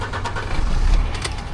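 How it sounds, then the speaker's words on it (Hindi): A truck engine cranks and starts in Europe, its deep rumble swelling briefly before settling into a steady low idle, close by, with light rattling on top. "गाड़ी स्टार्ट भी कर ली।"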